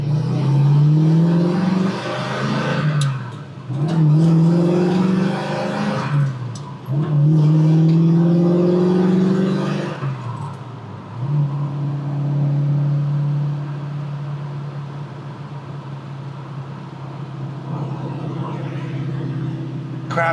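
A 1967 Ford Mustang GT accelerating on a rough road, engine rising through repeated revving pulls with gear-change dips, then settling into a steady cruising drone, loud and close from inside the car.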